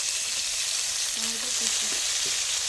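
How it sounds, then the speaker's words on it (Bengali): Five-spice seeds (panch phoron) and chopped tomato frying in hot oil in a wok, a steady loud sizzle with faint stirring clinks and scrapes partway through, heard close up. "কড়াতে দিয়ে দেবো 5 ফোড়ন, তেল, টমেটো"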